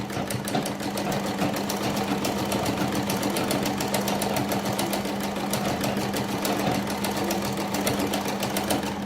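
A sewing machine runs steadily while stitching a kurti along marked lines, a continuous rapid mechanical whir with a fast needle rhythm and a low motor hum, close and unbroken with no talking.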